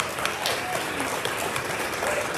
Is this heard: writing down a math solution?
no